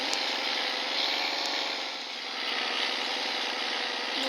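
A VAZ car engine drones steadily and close, a constant buzzing mid-pitched hum with a slight dip midway and no pauses.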